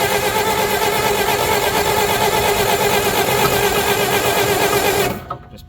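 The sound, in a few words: old Bobcat engine cranking and popping back through the carburetor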